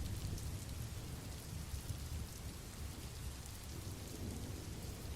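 Steady, dense rain pours down with a continuous low roll of thunder rumbling beneath it, an even, enveloping storm wash with no voices.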